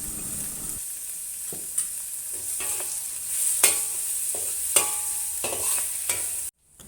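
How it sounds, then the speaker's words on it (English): Chinese broccoli and baby corn stir-fried in a wok, a steady loud sizzle with repeated scraping and tossing clatters of the spatula, ending abruptly. "Continue to stir fry until the stem of the broccoli becomes soft."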